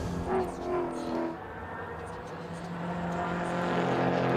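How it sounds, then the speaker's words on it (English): A Mercedes AMG GT race car's engine drones on a circuit at Sydney Motorsport Park, its tone building steadily as it approaches, with a commentator talking over it at the start. "Here is Nash Morris in the Mark Griffith Mercedes AMG GT."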